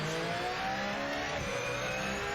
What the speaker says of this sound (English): Get to listen to the cool Porsche sounds there.